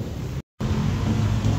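Thunder rumbling close by during a storm near an electrical transformer, a dense broadband roar that cuts out abruptly for a moment and then resumes just as loud, with no talking.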